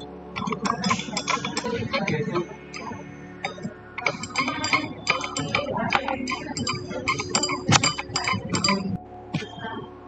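Glassware clinks and taps irregularly as ammonium molybdate solution is stirred, close and fairly loud, with bright ringing knocks scattered through the stirring.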